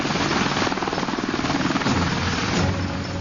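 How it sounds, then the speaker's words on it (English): Apache attack helicopter of the US Army 101st Airborne in flight, a steady, loud rotor thump with a continuous engine roar throughout, no talking. "that's just what it has with the Apache helicopter."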